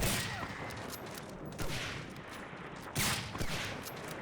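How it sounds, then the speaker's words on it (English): Gunfire in Medal of Honor: Allied Assault during a competitive sniper-league match, with several sharp shot bursts over a constant noisy background. "He's gonna get shot in the back."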